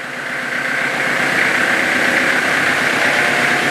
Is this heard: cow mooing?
no